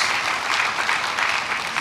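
Applause from a church congregation, a dense steady clatter of many hands clapping together, fairly loud and unbroken throughout, with no voice over it.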